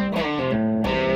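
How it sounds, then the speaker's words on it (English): Electric guitar played through an EWS Brute Drive distortion pedal set at the low end of its gain, giving a crunchy, harmonically rich sustained tone that holds steady and then swells again near the end. "at the low end of the gain range here, you're going to see that we still have a fair amount of crunch happening"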